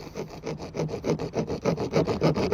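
A hand saw cuts through a plastic DI resin tube in quick, even back-and-forth strokes, roughly a dozen rasping passes in steady rhythm, close and alone.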